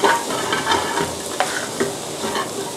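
A sweet-salty fish filling sizzles and is stirred in a hot pan, a steady close frying hiss broken by a few scraping stir strokes.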